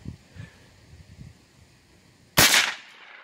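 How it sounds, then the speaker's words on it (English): A single sharp crack from a .22 rifle fired at targets, loud and close, following a few seconds of quiet low rumbling. "Now let's shoot the rest of the targets."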